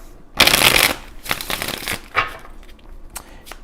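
Tarot cards riffled and shuffled by hand in a few close, crisp bursts, the first one long and loud, followed by shorter taps and shuffles with no talking.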